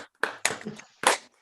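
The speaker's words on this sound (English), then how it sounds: "We could put on our mics and clap so we can hear some clapping." Several online meeting panelists clap into their microphones, a few sparse, uneven bursts of hand claps close to the mic with short gaps between them.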